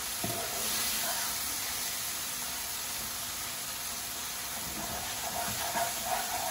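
Masala with fenugreek fries in hot oil for a mutton liver dish, giving a continuous, even sizzling hiss at moderate volume with small crackles toward the end.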